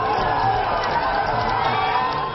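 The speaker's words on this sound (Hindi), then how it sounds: "जिनके रोड शो में उमड़ने वाली भीड़ नोटिस की जा रही है" A dense crowd roars and cheers at Priyanka Gandhi's road show, a steady loud wash of many voices with shouts and whoops rising above it for the whole stretch.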